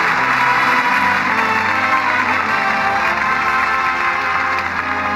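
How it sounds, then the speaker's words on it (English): Sustained applause from a radio studio audience, a dense, loud, even wash of clapping that holds steady for several seconds with no voices over it. "And that applause says it all."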